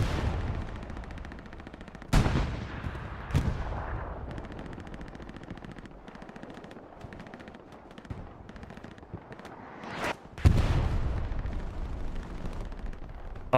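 Gunfire from the World War II shooter game Hell Let Loose: sharp, loud shots crack out near 2 and 3 seconds, with a heavy burst around 10 seconds, over a steady rumble of distant battle.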